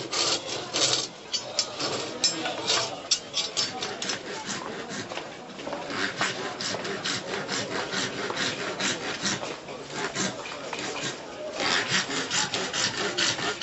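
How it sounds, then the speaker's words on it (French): Continuous rasping and scraping of a hand saw and file working ox horn into a comb, steady back-and-forth strokes, close and busy with faint background voices, in Morocco. "une corne de bœuf, une lime, une scie, tout à la main."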